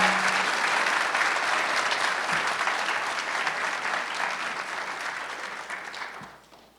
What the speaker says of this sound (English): I think we should give Joe Unger another round of applause